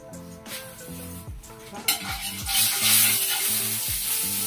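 Crushed garlic sautéing in a little oil in a hot pan, with a sizzle that swells and grows louder, a few clinks of utensils against the pan, and steady tonal sounds in the background.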